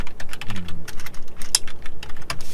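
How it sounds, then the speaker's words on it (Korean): Typing on a computer keyboard, close and loud, a quick uneven run of sharp key clicks with a brief low hum underneath. "키보드가 잘 안 눌러지네요."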